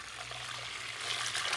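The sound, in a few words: pouring hot water into a pot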